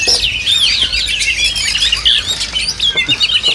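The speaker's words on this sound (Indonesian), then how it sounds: "Ini burung gacoran semua." Caged songbirds kept for competitive singing chirp and squawk at a bird market kiosk in Pramuka, several birds calling at once in dense, shrill, overlapping trills close by.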